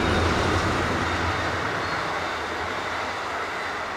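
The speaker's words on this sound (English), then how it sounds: "You can still hear that train rustling through" A train rumbling past with a broad, steady roar that slowly fades, heard on its own without voices.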